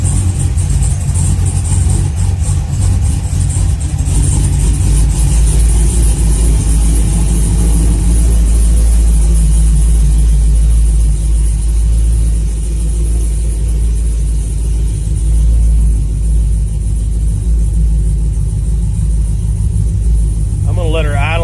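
A car with a transmission fault that will not give third gear is fired up and left running, a loud, deep steady rumble close by that continues throughout.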